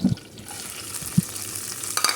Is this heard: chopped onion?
yes